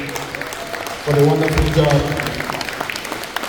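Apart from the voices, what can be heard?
audience applause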